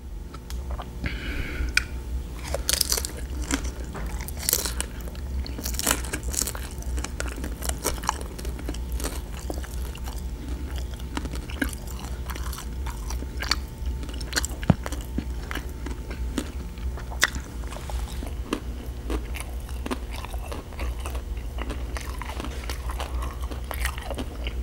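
Biting and chewing spicy ramen noodles and spicy pot-sticker dumplings, eaten with chopsticks close to the mic: repeated crisp bites and wet chewing clicks throughout, with no talking.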